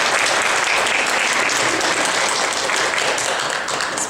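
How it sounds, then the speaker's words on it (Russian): An audience applauds writers at a book presentation for a Komi writers' anthology, a loud, dense, steady wash of clapping that fills the whole stretch and tapers slightly at the end. "Пожалуйста, аплодисменты нашим писателям."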